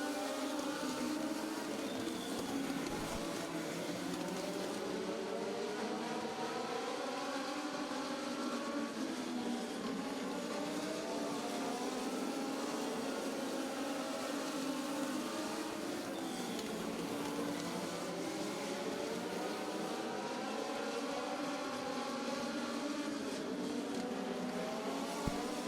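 Race cars running laps in a heat race, engines droning steadily and loudly throughout with rising and falling pitch as cars circle and pass, no voices heard.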